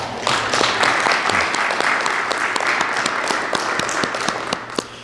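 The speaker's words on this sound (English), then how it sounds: "I think we should give a round of applause to Doc Gladstone." Sustained applause from a crowd at a business hall of fame ceremony, a steady wash of many hands clapping with a few sharper claps standing out, continuing throughout at an even level.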